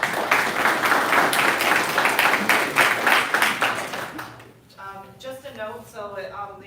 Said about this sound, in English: the applause is fine after opening statements